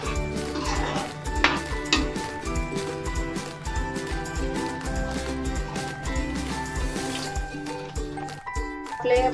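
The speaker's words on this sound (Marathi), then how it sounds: "आपल्या भाजीला आहे ना उकळी आलेली." Paneer curry gravy seasoned with salt and kasuri methi bubbles and sizzles in a pan, close up, with steady bubbling and occasional scrapes and clinks of stirring.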